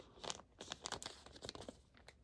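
Milky, cloudy plastic bag crinkling and rustling in close, irregular bursts of crackle for about two seconds, with no voices.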